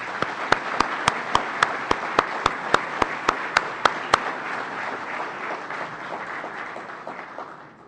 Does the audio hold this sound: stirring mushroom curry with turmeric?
no